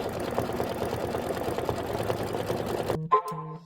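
Embroidery machine stitching a Kimberbell Sweet as Pie quilt block in a sewing room, a close, steady mechanical whir with rapid needle rhythm that stops abruptly, followed by a couple of short beeps.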